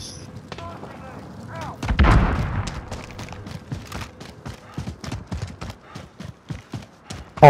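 Gunfire in the battle-royale game Warzone on a rooftop, with a loud burst of shots and a boom around the two-second mark, followed by a rapid, regular train of sharp cracks that stays fairly close and busy right to the end.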